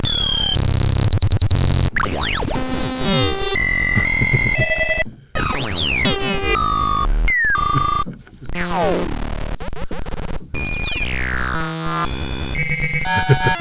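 Droid-like chirps and bleeps from the Cherry CA2600 softsynth, a busy string of rapid pitch sweeps, warbles and beeps broken by brief gaps, loud and upfront with no voice.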